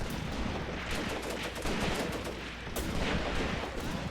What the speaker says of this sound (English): even got a guy firing his Walter pistol back here